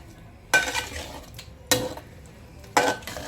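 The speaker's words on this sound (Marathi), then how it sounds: "हा मिक्सर धुवून घेते जरा." A mixer jar is rinsed in a village kitchen while cooking chicken palak, with three separate bursts of splashing water and clinking against the jar, each lasting about half a second, and quiet gaps between them.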